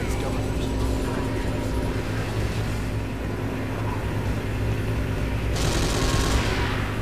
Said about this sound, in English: Notice the GDI flame tank destroying the downtown area